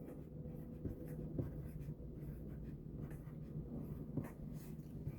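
A Sharpie marker writing on cards, with soft scratchy strokes repeating close by in an irregular rhythm. The sound is quiet, with faint background noise and no talk.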